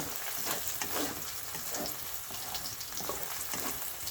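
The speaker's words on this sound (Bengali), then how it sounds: "সেই জন্য পেঁয়াজটা একটু ভেজে নেবেন" Onions fry in a pan with a dense, continuous hiss and crackle, steady and fairly close, with faint stirring movements under the sizzle.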